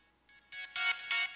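A song plays from a phone speaker, a few short bright synth notes stepping upward in a quick rhythmic phrase, tinny and fairly close.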